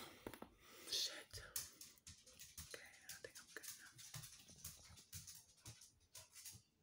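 Dogs pant and whimper softly in a room at home, uneven close breaths and small whines coming in bursts, faint overall, with a person whispering at times.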